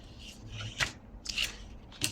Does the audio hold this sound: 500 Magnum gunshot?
no